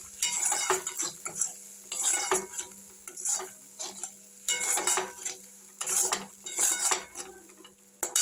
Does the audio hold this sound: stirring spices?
yes